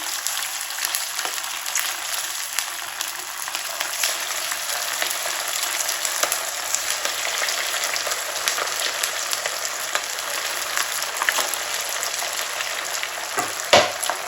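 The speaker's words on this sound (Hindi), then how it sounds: "अब यहाँ पे मैंने ऑयल गरम कर लिया, इसके अंदर ये रख देंगे।" Potato and semolina pieces fry in hot oil, giving a dense, continuous crackling sizzle like light rain that holds steady throughout, with a sharp knock near the end.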